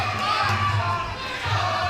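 Spectators at a Quan Trinh vs Indigo Boyd fight roar and cheer in a continuous swelling wash of crowd noise, loud and reverberant, with shouts rising and falling throughout.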